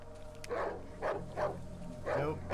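A dog in the horror survival game Darkwood barks in a run of four or five short, close bursts over about two seconds.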